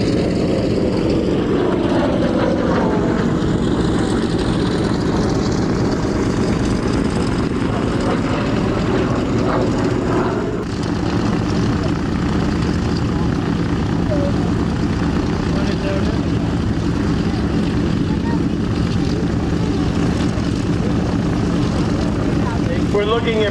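WW2 propeller aircraft engines drone at a loud, continuous level at an air show in Reading, Pennsylvania, a steady heavy roar with a slight shift midway and voices faintly underneath.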